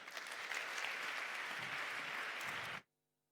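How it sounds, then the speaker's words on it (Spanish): Applause from an awards-ceremony audience at a sports gala, steady dense clapping for about three seconds that stops abruptly, followed by quiet. "Pido un fuerte aplauso para David Crespo"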